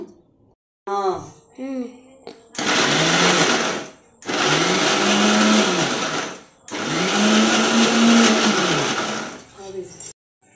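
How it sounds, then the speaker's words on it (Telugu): A kitchen mixer grinder whirs through three long loud bursts with short pauses between them as it grinds onion and pickle chutney, preceded by brief mechanical clicks and faint sounds. "చూడండి మెత్తగా అయితే మిక్సీ అయితే పట్టాను"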